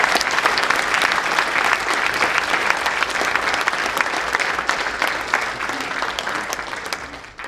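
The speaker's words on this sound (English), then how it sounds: "So please give applause for all the speakers." An audience at a GWT.create 2013 closing panel in Frankfurt applauds the speakers with steady, dense clapping that holds for several seconds and then tapers off at the end.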